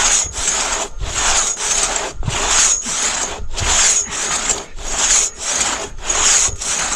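A two-person crosscut saw works through a big log on a wilderness trail, with rhythmic back-and-forth rasping strokes about twice a second, loud and close, and no one talking.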